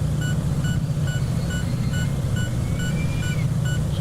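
Inside a Twin Otter in a flight simulator, a landing gear warning sounds as steady, evenly spaced high beeps over a constant low engine drone.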